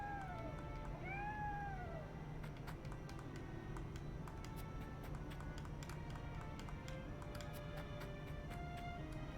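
Cat meowing in the video game Triangle Strategy, a few rising and falling meows early on over steady game music with tinkling notes.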